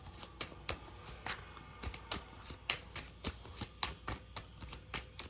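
Tarot cards are shuffled quietly and close up, giving a soft, uneven run of papery riffles and taps with no talking.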